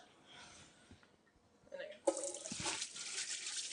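Tap water running into a sink for hand washing in a restaurant kitchen, starting about halfway through as a steady broadband rush after quieter background clatter and faint voices.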